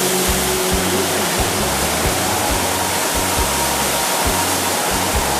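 Mountain waterfall on a river trek, a dense continuous roar of rushing water filling the whole scene at close range, with faint low thumps and no voices.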